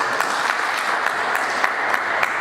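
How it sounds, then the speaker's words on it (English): An audience at a sports event gives a lively, sustained round of applause. It is a dense, continuous patter of clapping with a few sharper claps standing out, and no speech. "Let's give a round of applause for that."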